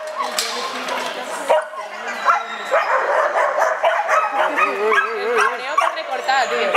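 A dog whimpers, yips and gives short barks in a continuous, close stream as it crosses, with people talking over it at times.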